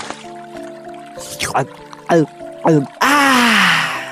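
Cartoon mouse deer drinking from a river: a series of bright bloopy drinking gulps and slurps, a few spaced sounds followed by a longer watery swirl, over a steady backing of music.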